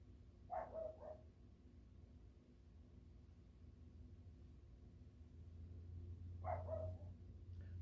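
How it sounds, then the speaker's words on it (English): A dog barks in the distance, two faint pairs of muffled barks several seconds apart over a low steady rumble. "Can you hear her barking?"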